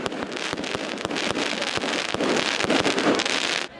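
A New Year fireworks display over a crowded beachside city precinct in Torquay. Dense, continuous crackling and sharp bangs fill the air, loud and steady throughout, with no voices.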